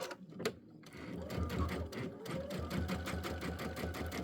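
A sewing machine runs in quick rhythmic bursts while sewing a short back stitch on a quilted table runner, close and fairly quiet, with brief pauses and a faint click.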